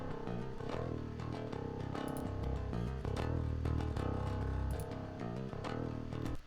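A bass guitar track from a metal mix plays continuously with its low end rolled off and the sizzly top trimmed, giving a thin, mid-heavy, steady riff with no voices over it.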